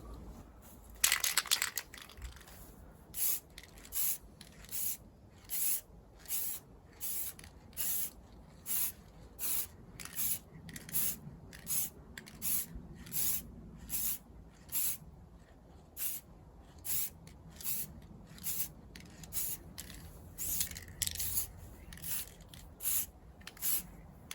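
Spray paint goes onto Nissan wheel trims in a light first coat: a long series of short, regular hissing aerosol bursts, each about half a second, close and clear with brief pauses between them and no talk.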